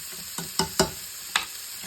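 Garlic and vegetables for bean stew frying in a pan under a steady sizzle, with four sharp utensil knocks and scrapes against the pan spaced irregularly.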